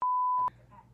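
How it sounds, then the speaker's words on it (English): A steady, loud censor tone, the kind that bleeps out words in a casual bored-at-home live vlog, holds for about half a second, then cuts off to quiet background chatter. "I'm censoring everything"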